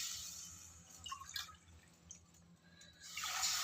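Water splashes into a cooking pot as a base for green gram rice, a quiet uneven stream with soft drips and a louder gush toward the end.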